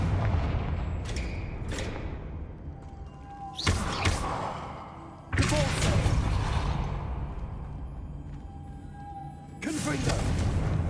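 Confringo blasting curse explosions in Hogwarts Legacy land as several sharp booming bursts with whooshing tails, spaced a few seconds apart over a quieter game background, while a voice speaks between them.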